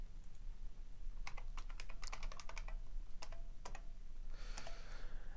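Typing on a computer keyboard, quiet and close, with irregular clusters of sharp key clicks over a faint background hum.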